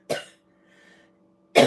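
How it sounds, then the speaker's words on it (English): Two short, close coughs from one person, spaced over a second apart, with near silence between them. "Sorry, I'm going to cough."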